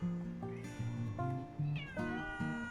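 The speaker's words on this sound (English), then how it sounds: "The cat is very noisy." A cat meows repeatedly up close, a string of about six rising and falling chattering calls with short pauses between them.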